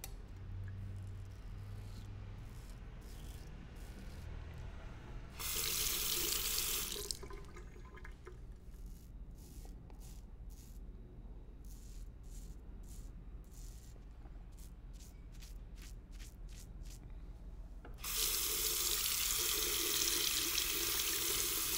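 A tap runs full into a sink while a safety razor is rinsed under it, loud rushing water in two long bursts separated by quieter dripping and splashing.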